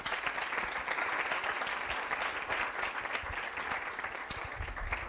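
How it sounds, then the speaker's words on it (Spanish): Audience applause at a Spanish-language talk on LLMs and databases, a steady, dense wash of many hands clapping that holds evenly throughout without any voices on top. "démosle un aplauso a Karen."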